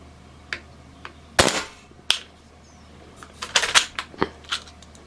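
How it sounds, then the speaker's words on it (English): Suppressed Hatsan Blitz .22 air rifle firing single shots, several sharp muffled cracks spaced irregularly with a few lighter clicks between, fairly close. "currently it's just single shots"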